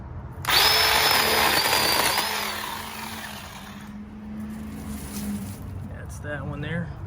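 A cheap 18V cordless chainsaw with a 10-inch bar whines loudly as it prunes branches of about half an inch to two inches, then winds down, with a voice speaking at the end.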